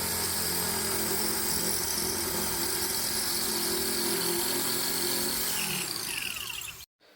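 An electric drill bores with a larger bit, giving a steady high motor whine with a grinding edge that runs continuously, then winds down and cuts off just before the end.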